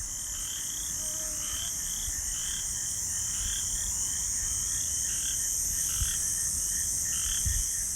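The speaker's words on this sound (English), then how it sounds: "you hear the crickets chirping and the frogs croaking" Frogs croaking in a summer night in the woods, a steady chorus of repeated rhythmic calls over constant high cricket chirping, continuous and fairly close with no talk.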